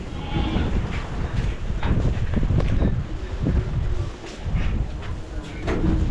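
Strong wind buffets the microphone in loud, continuous gusts, rising and falling, outdoors at a farm, with no one speaking.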